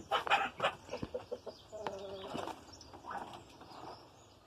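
Soft clucks and a drawn-out squawk come from a wild, aggressive rooster at close range, scattered short calls against quiet farmyard background.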